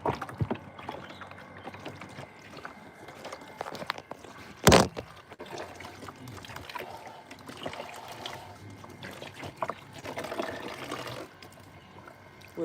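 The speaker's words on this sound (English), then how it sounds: "let Mummy wash off her legs" Water splashes and trickles as a child's legs are washed outdoors, with soft continuous pouring and sloshing, one sharp splash partway through, and low background noise under it.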